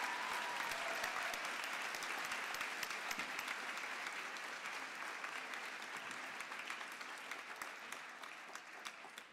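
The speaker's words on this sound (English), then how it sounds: "Could you please give these students a warm round of applause?" Steady, dense applause from a large audience at a senior campus graduation ceremony, honouring graduating students, sustained evenly throughout and fading only slightly at the end.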